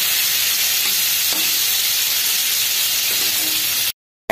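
Sweet-sour-spicy mango chutney cooking in a pan, a loud, even hissing sizzle with faint stirring scrapes, cutting off abruptly near the end.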